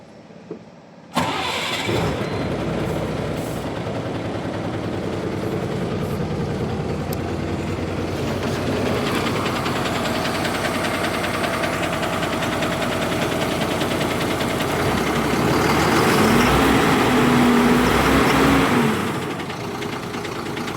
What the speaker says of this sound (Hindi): अभी इंजन को स्टार्ट कर इंजन के साउंड सुनाएंगे